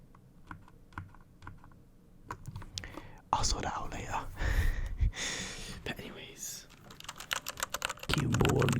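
Fingers tapping and typing on a computer keyboard with adjustable settings, a close series of quick clicks in uneven bursts, with soft whispered talk over parts of it.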